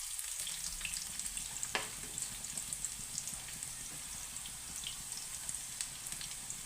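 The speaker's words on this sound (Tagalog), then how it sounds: "lalagay tayo ng sibuyas. Alright, so hantayin lang natin na mag golden brown." Chopped onions sizzle and fry steadily in a hot pan, a dense continuous crackle with a few sharp pops and light stirring scrapes, close and alone without talk.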